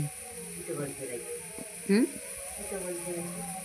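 A grandmother fries potato and eggplant curry in a pan, with a soft, steady sizzle, occasional stirring, a brief sharp squeak, and people talking nearby.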